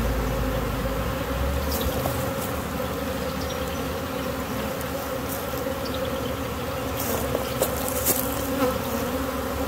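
A swarm of honey bees buzzes steadily around a bucket, a dense, close, continuous drone with no talking.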